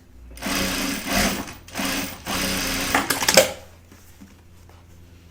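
A sewing machine stitching the edge of a zip pouch runs in three steady whirring bursts with short pauses between, close and fairly loud, then stops and leaves quiet room sound.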